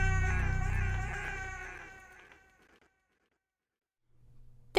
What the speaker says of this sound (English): The cat sits down and lets out a quiet meow